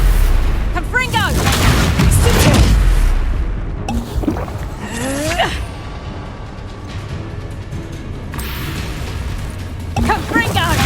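The Confringo explosive spell in the video game Hogwarts Legacy, heavy booms and blasts over rumbling combat noise, repeated several times among voiced spell shouts.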